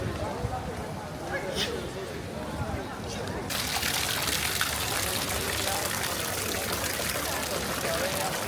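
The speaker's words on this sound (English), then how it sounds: "Oh, and there is a fountain." Water splashing and gushing in an outdoor fountain on a Spanish city street, a steady broadband rush that grows louder and fuller partway through, with voices speaking around it.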